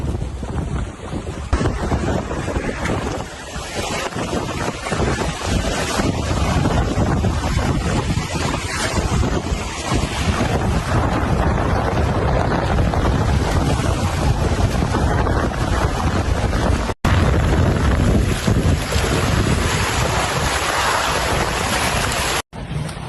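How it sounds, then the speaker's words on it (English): Strong wind of about 25 knots gusting 30 roars steadily across the microphone aboard a sailboat at sea, with rough water rushing and slapping against the hull, loud and continuous, briefly cutting out twice. "Wind strengthened maybe 25 knots now, gusting 30. And with that, the sea's picked up."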